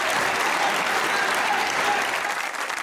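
A studio audience at a comedy talk show breaks into dense, sustained applause, loud and even from start to finish with no voices over it.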